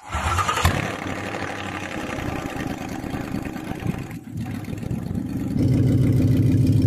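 Engine of a 2016 Mustang GT fitted with a 1967 Mustang coupe body, cranking and catching, then settling into a loud, rough idle that swells louder near the end.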